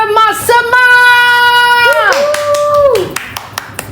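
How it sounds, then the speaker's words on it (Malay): An audience claps at a Malaysian live event honouring Mak Semah and her legendary coconut biscuit recipe. Sustained, gliding tonal sounds like voices or music fill most of the moment before scattered sharp claps break through near the end. "Beri tepukan gembira kepada"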